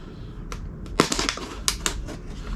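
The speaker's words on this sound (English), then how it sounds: "get a knife and cut down the middle of the bottle" A knife cuts down the middle of a plastic water bottle, giving a series of sharp, crackling snaps and scrapes close by at irregular intervals over a low background hum.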